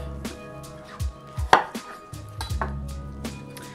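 A knife chops through soft zucchini on a cutting board, several sharp close thuds in an irregular rhythm with one louder strike, no voices.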